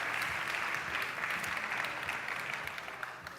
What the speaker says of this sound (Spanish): Fortísimo aplauso para ellos tres.